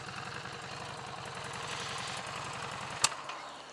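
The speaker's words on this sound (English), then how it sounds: "Oh, it's stalled." The engine of a Harley-Davidson Street 750 motorcycle runs with a steady, uneven rumble, then gives a single sharp pop near the end as it stalls, close and fairly quiet.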